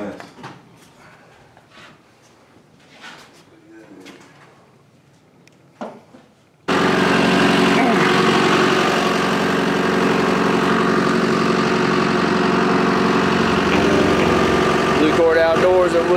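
A tractor engine starts up partway through after quiet moments with faint knocks, then runs loud and steady nearby on a Florida outing, its low rumble continuing without a break.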